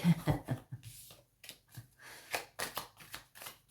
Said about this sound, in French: On va mélanger un petit peu quand même.